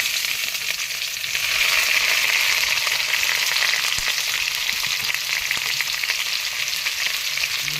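Spice paste sizzles steadily in hot oil for a prawn curry, a continuous bright frying hiss with faint stirring scrapes, close and loud throughout with no talking.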